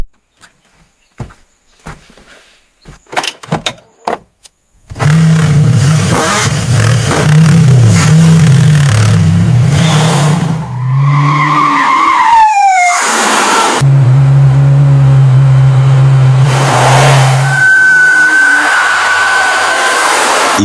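A BMW K1200LT touring motorcycle's engine on a test ride after restoration runs loud and steady after a few sharp clicks, rising in pitch as it accelerates, then settling back to a strong drone.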